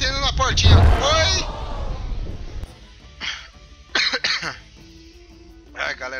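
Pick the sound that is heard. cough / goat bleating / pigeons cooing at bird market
cough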